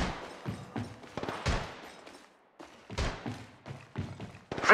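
Gunfire in the mobile shooter Apex Legends Mobile: several short bursts of sharp shots and thuds in quick clusters, with brief pauses between volleys, moderately loud and close.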